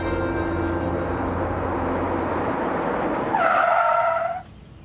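A car's tires skid and squeal as it brakes to a stop on a road in Gadchiroli, a steady engine rumble rising into a short harsh tire screech that ends abruptly, leaving quiet.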